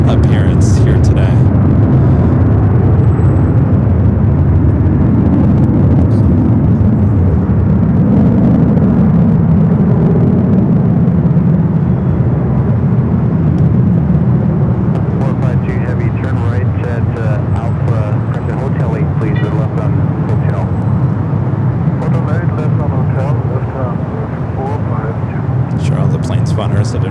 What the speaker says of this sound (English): Lufthansa E350 900 in the 100-year livery, making a south side appearance here today